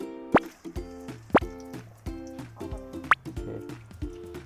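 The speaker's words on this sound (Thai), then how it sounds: "เราจะสาดแป้งเข้าไปในกระทะก่อน" Batter splashed into hot frying oil for shrimp tempura makes a series of distinct wet plops and drips, each a sharp close impact with a short tail, repeating unevenly.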